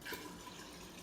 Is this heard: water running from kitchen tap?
yes